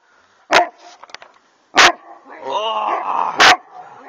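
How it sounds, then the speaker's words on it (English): A big English Mastiff gives three loud, deep barks spaced about a second apart, close by, with softer whining and a voice in the gaps between them. "I'm gonna get him barking."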